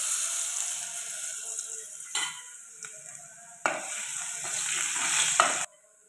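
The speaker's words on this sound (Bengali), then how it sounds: "তেল গরম হয়ে গেছে রসুন দিলে" Garlic dropped into hot oil, a bright steady sizzle with a few sharp bursts as pieces hit the pan, close by and ending abruptly, no voices.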